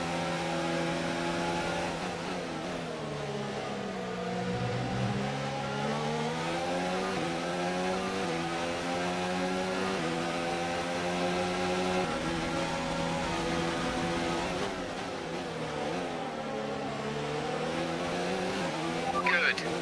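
F1 2019 race cars battle for position at the Bahrain Grand Prix, engines whining loud and close with rising and falling pitch as they shift and overtake, a continuous high-revving drone throughout.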